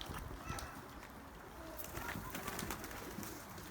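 Pigeons in a coop of a breeder's own birds, including sugar-wing varieties, coo faintly and continuously amid rustling and scattered clicks, with a low murmur of voices in the background.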